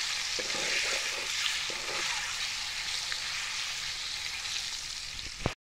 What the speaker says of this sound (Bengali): ডিমটা এখানে ভেজে নিচ্ছি।